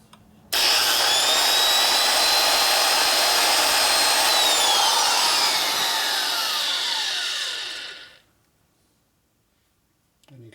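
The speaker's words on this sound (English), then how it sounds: "You spin it with your grinder and just run across the surface." An angle grinder spins a resurfacing tool across the cylinder head of a 1977 Harley-Davidson XLCR 1000cc Ironhead engine, a loud, steady high whine for about seven seconds that winds down in pitch and fades to silence.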